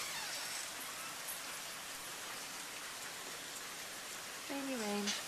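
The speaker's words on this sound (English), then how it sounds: "Can you see the rain?" Steady rain falls close by in spring weather at about 52 degrees, a dense continuous hiss throughout, with a brief voice near the end.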